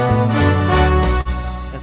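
A song played on a keyboard with octave harmony doubling a note an octave lower for added low end, rich sustained chords with a brief dip near the middle, no talking.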